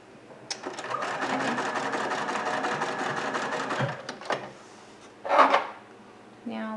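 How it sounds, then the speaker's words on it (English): A sewing machine stitches a quarter-inch seam on quilt binding in a fast, even mechanical whir lasting several seconds, then stops, followed by a few short handling knocks and a brief louder rustle. "you're just going to sew your 1/4 of an inch"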